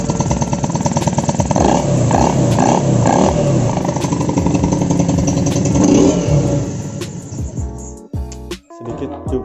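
A Yamaha TDR motorcycle with a quick-throttle fitted revs hard in several loud, close bursts over a steady idle, then the engine dips and stutters near the end.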